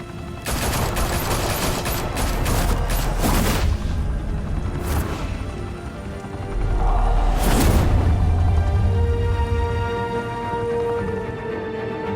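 Gunfire in the Batman Telltale video game: a sustained fusillade of dense shots with booming impacts, loud and continuous across the scene, swelling again partway through.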